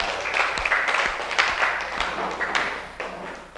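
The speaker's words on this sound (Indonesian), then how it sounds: "Tepuk tangan buat kita semua." A group gives a round of applause, heard as scattered, uneven hand claps that keep going steadily at moderate volume with no voices on top.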